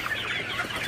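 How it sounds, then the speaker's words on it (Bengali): Sonali super hybrid chickens cluck and murmur softly on a farm, a steady low chatter of several birds at close range with no voices. "এখন হচ্ছে আমার সোনালি সুপার হাইব্রিড মুরগির"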